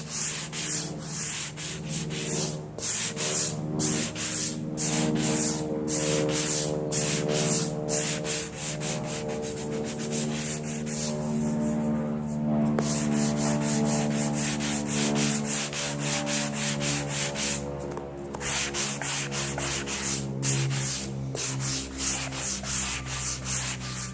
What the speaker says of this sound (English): Green on your sanding block